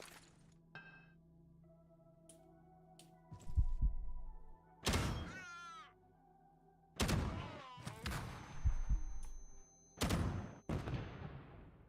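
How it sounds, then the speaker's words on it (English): A flashbang grenade going off in a video game: a sharp, loud burst followed by a ringing tone, among several other heavy thumps and bursts spread across the clip, with no talking. "Let's use the flashbang."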